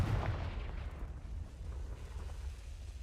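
A Confringo fire spell explodes in a Harry Potter-style video game, a short loud deep boom that quickly decays into a rumbling tail, no talking.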